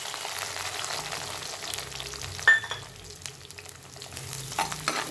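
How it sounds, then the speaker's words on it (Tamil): Onions tipped into hot sesame oil with fenugreek seeds, sizzling and frying steadily, with a sharp burst as they hit the pan and stirring clatter afterward. "இதில் வெங்காயத்தை கொட்டுறேன்."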